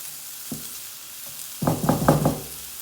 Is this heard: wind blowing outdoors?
no